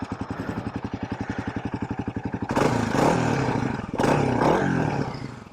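A Kawasaki KLX 300 dirt bike idles with a rapid, even thumping, then is revved hard twice in quick succession, each blip a loud raspy roar close by.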